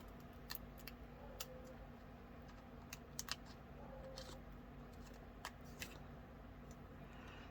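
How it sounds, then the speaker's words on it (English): Small scissors snip out a tiny grass sticker for a resin pendant, with a handful of faint, crisp clicks scattered over quiet room noise. "So I'll just take a little grass and cut it out."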